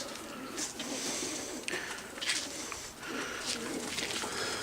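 One-loft racing pigeons in heavy molt perch together on a wire outdoors, giving soft cooing and scattered bird calls over a steady broadband background with occasional rustles.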